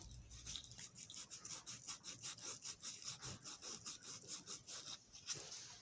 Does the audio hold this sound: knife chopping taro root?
no